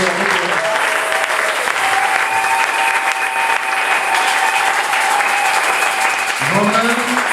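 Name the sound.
congregation applause for the Lord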